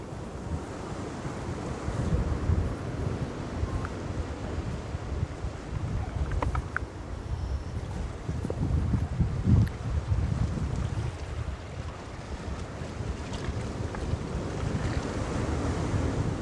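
Sea waves washing onto the Karachi shore, a loud, continuous roar of surf mixed with gusting wind buffeting the microphone, with no voices heard.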